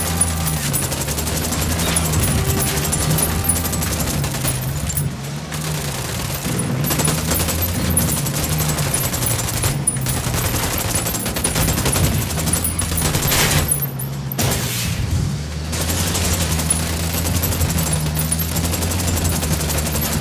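Sustained bursts of machine gun fire in Ghost Recon Wildlands, loud and dense, rattling on for most of the stretch with only a few brief pauses between volleys.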